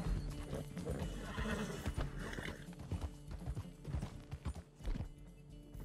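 A Suffolk Punch horse in Red Dead Redemption 2 whinnies while hooves clip-clop steadily underneath, moderately close and fairly quiet, with no speech.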